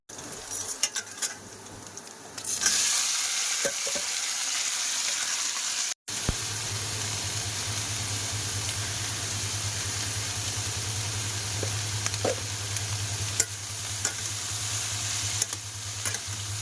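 Steady sizzling of rice frying in a pan with occasional scraping and stirring, over a low constant hum, no voices.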